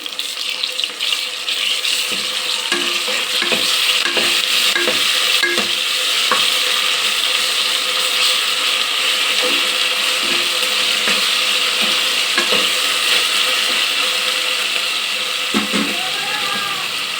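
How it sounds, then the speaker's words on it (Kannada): Ginger garlic paste frying in hot oil in a pan while being stirred, a steady loud sizzle with scraping and clinking of the spoon against the pan throughout. "ಸ್ವಲ್ಪ ಶುಂಠಿ ಬೆಳ್ಳುಳ್ಳಿ ಪೇಸ್ಟ್ ಹಾಕ್ತಾಯಿದ್ದೀನಿ. ಚೆನ್ನಾಗಿ ಇದು ಇದರಲ್ಲಿ ಫ್ರೈ ಆಗಲಿ."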